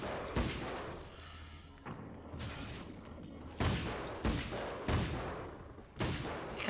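Gunfire in Alan Wake's American Nightmare, with loud shots hitting at irregular intervals, each a sharp broadband crack with a booming tail, over a dense background of game noise.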